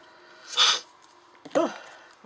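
Two sneezes, one after the other, each a sharp breathy burst, close and loud, with quiet between them.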